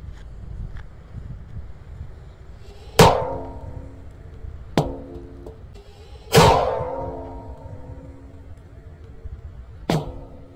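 Four sharp explosive bangs spaced a few seconds apart as Banaspati firecrackers explode under a metal barrel, each with a ringing metallic clang, over a rumbling outdoor background.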